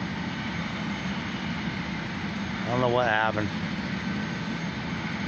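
A Life Flight medical helicopter engine runs at the Marion General Hospital parking lot in Marion, Ohio, a steady broad roar with a droning hum throughout, while a voice briefly speaks over it near the middle.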